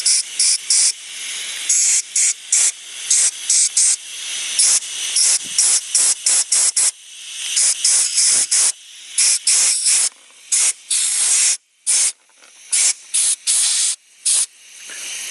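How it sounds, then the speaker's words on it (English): Sharp hissing blasts of compressed air cleaning a Toyota Corolla mass air flow sensor, sprayed in many short bursts of varying length with brief gaps, loud and close, no voices. "this air, compressed air is really useful"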